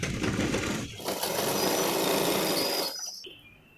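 Sewing machine running steadily as it stitches both sides of a folded fabric strip for a full-sleeve design, a loud continuous mechanical whir that stops near the end.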